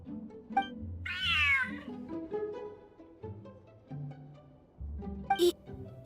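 A video game cat meows in a rising, wavering call near the start, followed by quieter game sounds and a second short high cry toward the end.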